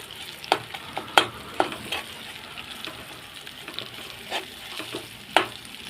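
Broad beans in a creamy tomato gravy are stirred in a frying pan: soft sizzling underneath with irregular spoon scrapes and clinks against the pan, fairly quiet and close, no talking.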